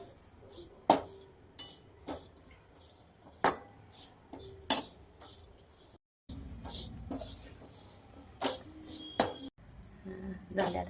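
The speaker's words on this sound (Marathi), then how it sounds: "आपण खोबरं भाजून घेऊ" Coconut dry roasts in a pan as a utensil scrapes and clatters against the metal in sharp, irregular knocks, with someone talking over most of it in a home kitchen.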